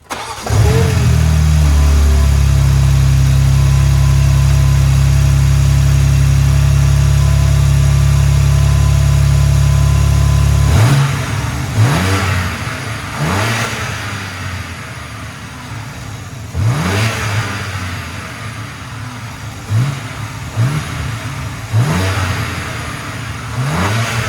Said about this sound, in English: I'm also going to do a cold start. I'm going to rev it up